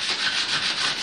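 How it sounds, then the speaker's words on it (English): A small sanding block rubs along the fret ends of a wooden banjo neck, a close, steady scratchy back-and-forth sanding with no talk. "you probably will want to use a little sanding block and sand along the ends of the frets on a slight angle here."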